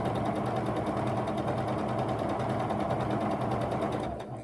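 A sewing machine stitches in a quick, steady mechanical rhythm, running continuously before slowing and stopping near the end.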